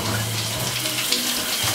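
Shower water runs in a steady, close, hissing spray, with a low hum underneath, for a couple of seconds.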